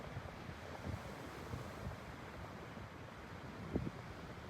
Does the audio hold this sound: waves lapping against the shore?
yes